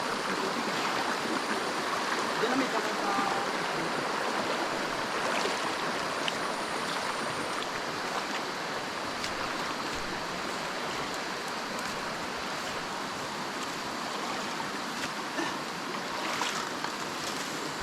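Clear river water flows steadily in a broad, continuous rush throughout, close and fairly loud, with a brief murmur of speech barely present.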